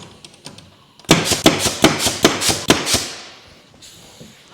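Nails are hammered into plywood while building a rabbit enclosure: about eight sharp, loud, close blows in a quick steady rhythm, followed by quieter tapping and handling noise.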